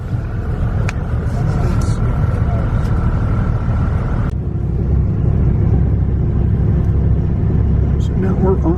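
Low, steady engine rumble fills the interior of a moving bus, a continuous drone with a shift in tone midway, loud and close throughout.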